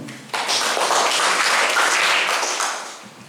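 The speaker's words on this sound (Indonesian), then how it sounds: "Boleh tepuk tangan dong." A church congregation breaks into warm applause, a dense wash of many hands clapping that starts abruptly, holds steady for a few seconds and then tapers off.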